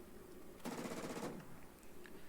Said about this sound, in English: as rough as the flight performance on the Vatours is, those cannons hit really hard